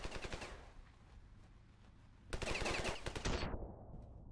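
Machine gun fire in the Ravenfield video game during a beach landing, rapid automatic bursts, a long rattling burst at the start and a louder, denser one near the end, with no talk.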